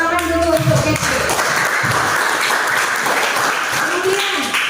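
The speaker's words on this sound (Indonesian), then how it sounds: "Tepuk tangan dulu untuk Catherine." A group of students claps for a classmate named Catherine, steady applause filling the room, fairly loud and close, with voices talking over the start and end.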